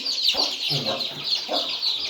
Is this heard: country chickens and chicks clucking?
yes